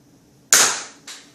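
Two sharp snaps from a Zombie Strike Nerf dart blaster firing, a loud crack followed half a second later by a softer second shot, close and isolated.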